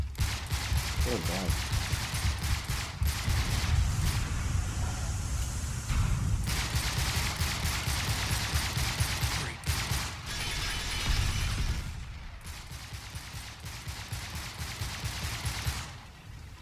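Dense enemy gunfire in Uncharted 3: Drake's Deception, sustained volleys of rapid shots with mechanical clatter through most of the passage, fairly loud; a voice exclaims briefly early on.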